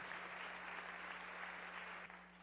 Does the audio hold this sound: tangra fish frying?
no